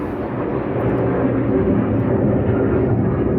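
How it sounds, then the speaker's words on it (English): Steady broadband roar of airplanes flying overhead at an outdoor spot where bonsai material is being trained, a loud continuous rumble with no break and no talk over it. "again sorry for the planes"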